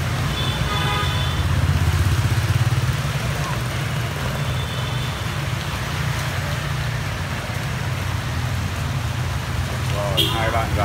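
Steady rain pours on a Saigon street with a dense hiss over low traffic rumble, and a voice talks over it throughout.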